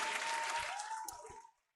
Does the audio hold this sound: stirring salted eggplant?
no